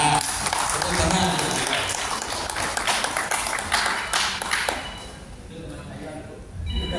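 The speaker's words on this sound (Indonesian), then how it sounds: "tepuk tangan" Seminar audience clapping for a participant at a talk on healthy, productive old age, a dense burst of applause that stays steady and then fades toward the end, with voices over it.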